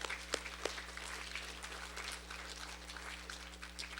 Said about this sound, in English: could we give them a very big round of applause?